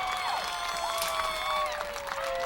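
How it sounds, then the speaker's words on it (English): A crowd of firefighters cheers and applauds after a touchdown at a 1999 high school football bowl game, a steady roar of clapping and shouts with whistling sweeps over it, fairly distant and continuous. "And now the firefighter crowd has something to cheer about"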